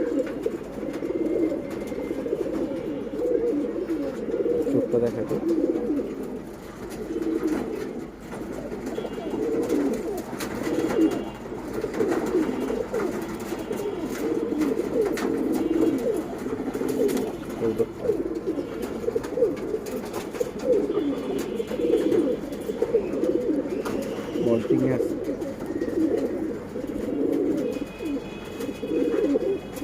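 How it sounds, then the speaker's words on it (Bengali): Silver-breed pigeons coo continuously in a dense, overlapping chorus of low rolling calls that carries through the whole stretch, with a brief spoken voice at one point. "এটা একটা সিলভার কবুতর"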